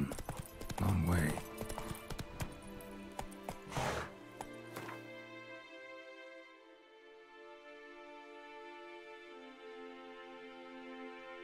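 A horse ridden at a gallop in a video game, with clip-clop hoofbeats and a brief whinny up front, then a steady musical score; a voice speaks briefly over the start.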